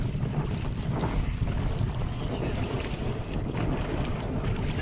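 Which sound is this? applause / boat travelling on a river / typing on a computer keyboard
boat travelling on a river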